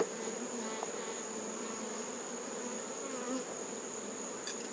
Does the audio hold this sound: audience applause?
no